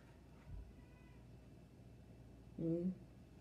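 A cat gives a single short meow close by near the end, after a brief low thump, over a quiet room.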